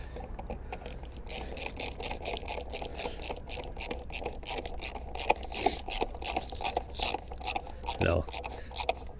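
A bit tightens a screw on the air filter housing of a 2014 Chevy Equinox, making a fast, steady run of close ratcheting clicks that continues throughout.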